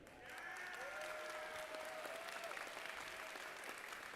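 Audience applause for competing teams at an FTC robotics qualifier tournament in Powhatan, Virginia, a sustained, even roar of clapping from a large crowd in an indoor venue, lasting throughout.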